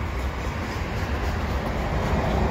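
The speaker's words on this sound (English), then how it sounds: "Some CP maintenance away cars, those are ballast cars." CP freight train hauling maintenance-of-way ballast cars at Beaurepaire, a steady broadband rumble and rolling clatter of wheels on rail that stays loud and close throughout, with no voices.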